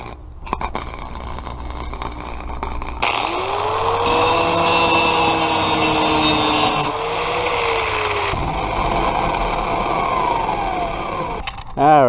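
A Harbor Freight Flux Core MIG 125 welder on its minimum setting welds a slip-fit exhaust pipe joint, giving a loud continuous crackling buzz in several bursts of a few seconds each, with pauses and clanks between them.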